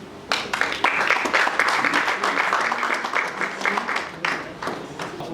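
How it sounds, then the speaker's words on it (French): An audience at a conference applauds with dense, continuous clapping that swells and then thins out, fairly close, with a few voices mixed in. "on va applaudir"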